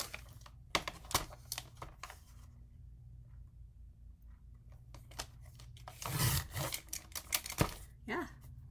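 Cardstock for a 6 x 8 mini album being cut makes faint, quiet sounds: scattered taps and handling clicks, then a short scraping slice near the end, with no talk.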